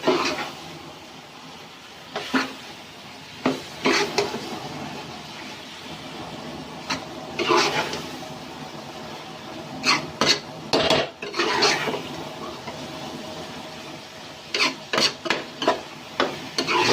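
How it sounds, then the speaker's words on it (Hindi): Daal mash being fried and stirred in a pan over high heat, with irregular scraping and clanking strokes of a utensil against the pan over a low background hiss and no talking. "इसको अच्छी तरीके से भून लें।"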